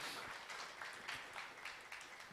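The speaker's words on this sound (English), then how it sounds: "I think we can give them a round of applause for what they have done for us" An audience at an annual performance review gives a round of applause, with soft, moderately distant clapping that comes in uneven bursts.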